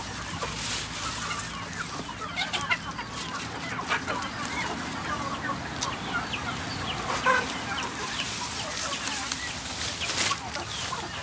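Free-range chickens cluck softly and continuously nearby while eating leaves, overlapping chirps and murmurs with a faint background hum and occasional louder calls.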